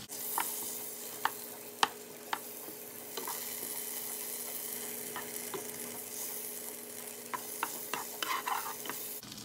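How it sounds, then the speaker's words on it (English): Grass-fed butter sizzles softly in a pan, a quiet continuous fry broken by sharp scattered clicks of a utensil stirring and tapping, with no talking. "I'm just going to throw in some grass-fed butter"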